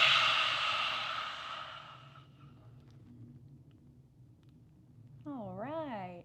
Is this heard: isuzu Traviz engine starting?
no